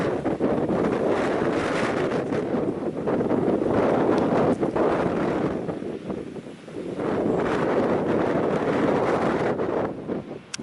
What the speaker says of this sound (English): to give you an idea of the sort of windy day it is